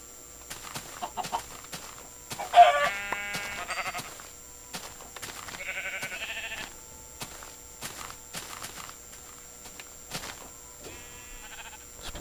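Short clucks and squawks from a Minecraft chicken in the Aether come in a few bursts over quiet footsteps and tapping sounds.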